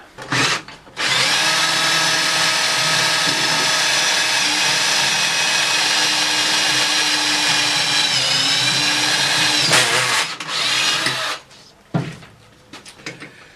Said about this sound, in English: drill from the other side through into this piece of wood so that everything is lined up